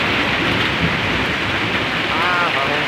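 Heavy rain pours down during a storm, a loud, steady wash of drops on surfaces with no let-up, and a brief voice surfaces partway through.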